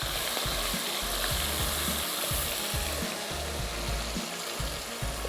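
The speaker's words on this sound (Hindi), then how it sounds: "ये ऑयल हमारा हो गया गरम, इसमें डाल देंगे कलेजी" Chicken liver frying in hot oil in a pan, a steady loud sizzle running throughout with faint stirring clatter, no voices.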